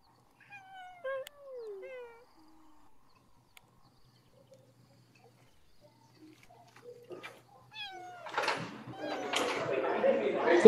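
A cat meows a few times, with rising and falling calls near the start, followed by louder broadband noise and further cries toward the end.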